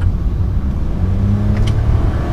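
A car accelerates hard to overtake on the winding Tamparuli-Ranau road, its engine droning low and steady throughout, with a rising engine note near the end.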